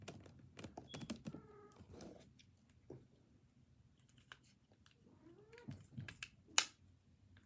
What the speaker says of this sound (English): oh look, my cat's here